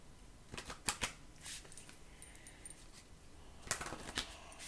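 Soft, quiet riffles of tarot cards being shuffled, two brief bursts separated by a pause, in a hushed room.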